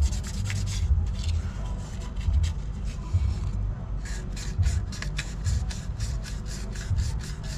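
Steady rhythmic rubbing and scraping of sandpaper worked back and forth over a PVC pipe before solvent cementing, close and moderately quiet with regular strokes.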